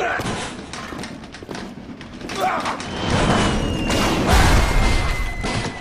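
An explosion in the video game Bioshock, a dull booming thud that swells and rumbles near the end, mixed with game noise and someone talking over it.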